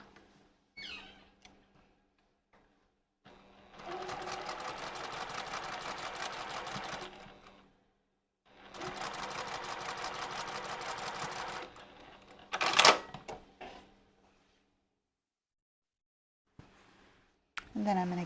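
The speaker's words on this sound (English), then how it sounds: "position it right sides facing on top of that remaining section and stitch end to end" A sewing machine stitches tote bag fabric in two long, steady runs of fast mechanical whirring, separated by a pause, with a few soft handling clicks and thumps between and after.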